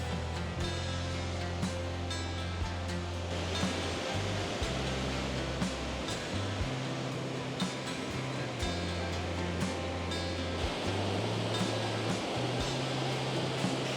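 The Coulonge River's 42-meter waterfall gives a steady, dense roar of rushing water that stays constant throughout, with a low droning hum underneath and no voices.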